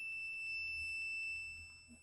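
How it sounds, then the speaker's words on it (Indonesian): An analog multitester's continuity buzzer sounds a steady, high-pitched electronic tone continuously and fairly quietly for about two seconds. "Buzzer ini kegunanya untuk mengecek kabel putus."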